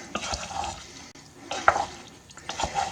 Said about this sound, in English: As you add it, just keep stirring it.